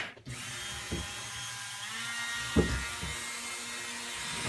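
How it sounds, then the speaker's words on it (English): A Dremel rotary tool works on leather for belt making, its steady high whine running throughout at close range, with a couple of brief bumps in tone as pressure changes; no one speaks. "I like the Dremel because I control the speed, and what you're doing is you're putting heat to the leather."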